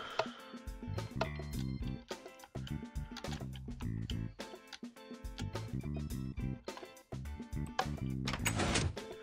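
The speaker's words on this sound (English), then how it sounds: "I heard the door, so yeah, those pressure plates definitely do something." A door worked by pressure plates in Minecraft opens with a busy mechanical clatter that rises toward the end, heard against dense game sounds.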